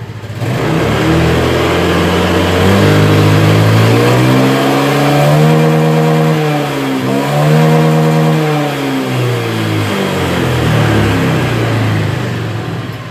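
A Honda Beat or Scoopy FI scooter engine revs up and holds a high whine, dipping and climbing again before settling, loud and close with no talk.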